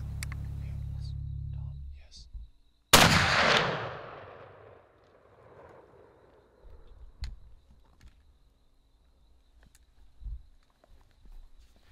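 A muzzleloader rifle fires at an elk during a Colorado hunt: one sharp, loud shot with a long rolling echo, after a low rumble, followed by faint rustling and scattered footsteps.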